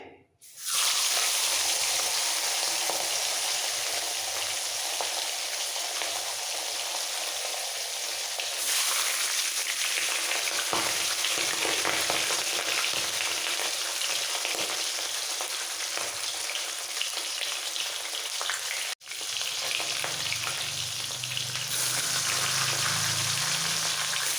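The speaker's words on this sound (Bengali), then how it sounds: "তেল ভালোভাবে গরম হয়ে যাওয়ার পর মাছের মাথাগুলো ভেজে নিতে হবে" Hot oil sizzles loudly and continuously as fish heads fry in a pan, a steady crackling hiss with a brief pause partway through.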